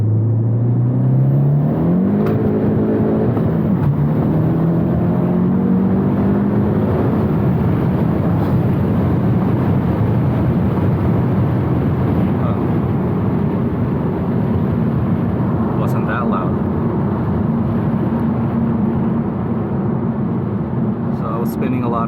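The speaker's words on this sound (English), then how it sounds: "you guys can hear what the turbo sounds like on a Civic Sport" A turbocharged Honda Civic Sport FK7 pulls hard in second gear, engine note rising steadily through the revs with a loud whirring rumble and road roar, no break in the drone from start to finish.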